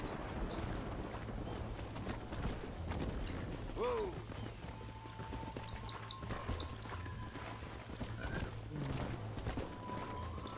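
Hooves clip-clop faintly and rhythmically as a horse is ridden in Red Dead Redemption, with wind and a soft whinny in the background.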